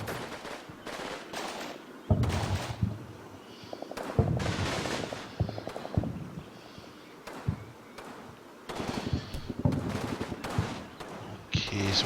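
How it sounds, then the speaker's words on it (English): Video-game gunfire in a WWII-style German meeting engagement, bursts of rifle and machine-gun shots coming in repeated volleys, loud and close, with someone talking over parts of it. "we're taking fire from our right flank"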